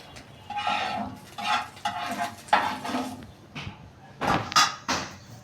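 Fried eggs lifted from a pan into a dish: soft scraping and clinking of utensil against cookware in short irregular bursts, close and moderately loud, with no talking.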